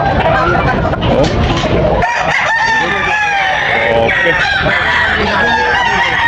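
A rooster crows loudly and close by, with overlapping calls from other fowl, while someone says a brief word.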